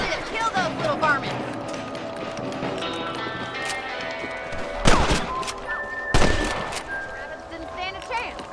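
Gunshots ring out while hunting rabbits in Red Dead Redemption, a few loud sharp cracks among game sounds and horse hooves, with voices talking throughout.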